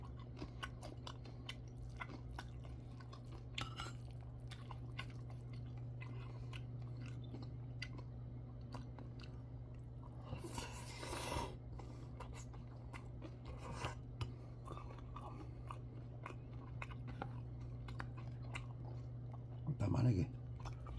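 Someone chews bibimbap with kimchi close up, a soft wet crunching and munching that repeats over a constant low electrical hum, with a louder bite or rustle near the end.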